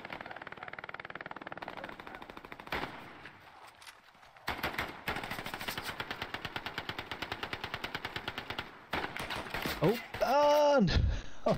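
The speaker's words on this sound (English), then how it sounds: "that's a braced MG if I've ever seen one from the sky" A braced machine gun in Hell Let Loose hammers out long, steady bursts of rapid fire, loud and close, with short gaps and other battle noise, while players talk over it.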